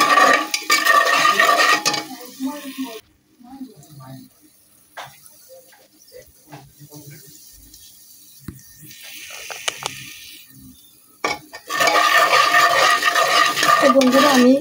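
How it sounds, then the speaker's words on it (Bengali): Asafoetida (hing) stirred in a pan for niramish tarka: loud, busy scraping and sizzling at the start and end, with a much quieter stretch of sparse clinks in between. "দিয়ে ভালো করে আমি নাড়াচাড়া করে নিচ্ছি"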